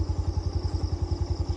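A motorcycle engine chugs in a steady, close pulsing rhythm on a muddy road, running low and even without a break.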